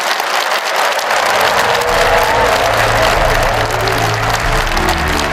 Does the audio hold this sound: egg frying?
no